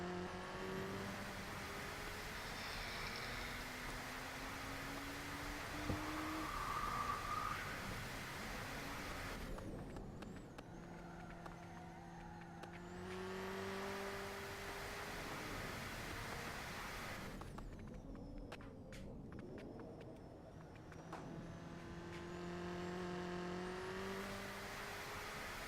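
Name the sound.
car engine crackling with exhaust fire, video game Automation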